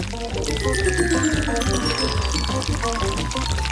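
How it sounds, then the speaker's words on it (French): Pink batter poured from a bottle in a steady continuous stream, close and fairly loud with a faint liquid gurgle and no speech over it. "Et maintenant, je prends la bouteille. Et je verse toute la pâte."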